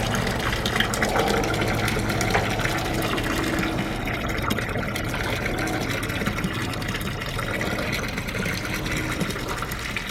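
Steady rushing and splashing of water pouring in a continuous stream from the air-conditioning discharge outlet of a Sea Ray 480 boat after repair, with a faint mechanical hum underneath.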